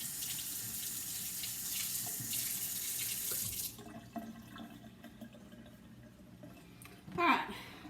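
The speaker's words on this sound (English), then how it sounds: "Now I gotta wash my hands." Kitchen tap running while someone washes their hands, a steady close rush of water for several seconds that then cuts off, followed by faint handling sounds and a short clatter.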